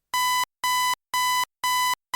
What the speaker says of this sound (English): The alarm shrieks its digital wail.